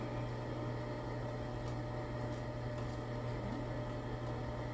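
An electric mixer runs steadily on slow speed, beating pound cake batter: a constant low motor hum with a whirring drone, moderately loud and unbroken, with no talking.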